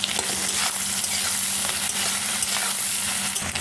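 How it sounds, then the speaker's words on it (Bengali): Dried fish fries in a pan with salt and turmeric for a Bengali spicy curry, producing a close, loud, even sizzle with faint crackles, with no talking. "এবার লবণ দেবো, হলুদ দিলাম। এবার একটু ভেজে নেব।"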